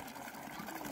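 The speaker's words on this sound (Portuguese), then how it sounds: "Agora tem água com força" Water gushes strongly and steadily from a newly installed home water supply, a continuous close rushing flow with no talk.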